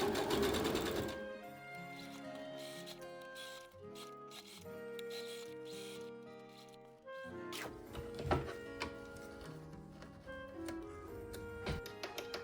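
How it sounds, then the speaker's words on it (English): A sewing machine stitches a pants seam on a costume armor piece, its needle chattering in steady rapid bursts with brief pauses, close and clear over a faint musical backdrop. "I basically just sew to the front of the pants at the top of the seam allowance"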